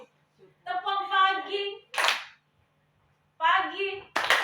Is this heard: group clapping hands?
yes